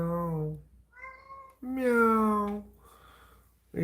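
A person imitates a cat, producing several drawn-out, nasal meows one after another with short pauses between, close and clear with no other sound.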